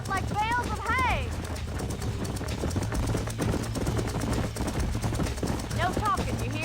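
Horses' hooves clip-clop in a Red Dead Redemption game scene, a busy rhythmic clatter under a dense mix of game music and effects, with whistle-like calls and a voice speaking briefly.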